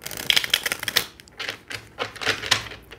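A deck of tarot cards is shuffled nearby in a series of quick, crisp riffling bursts and soft clicks, with brief pauses between the rapid flurries.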